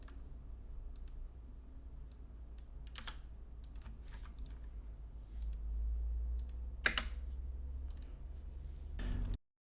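Computer keyboard typing and clicking, with irregular clusters of quick keystrokes and a few louder taps over a low hum, close and fairly quiet, then a sudden cut to silence.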